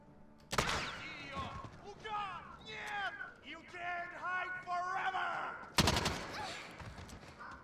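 Gunfire in the video game Call of Duty Modern Warfare: a sharp loud shot near the start and another burst near the end, with busy game sounds and talking in between.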